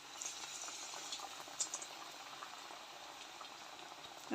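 Potato bajji frying in plenty of oil in a pan over low flame, a steady fine bubbling sizzle with a few brief louder pops, close and alone with no talk.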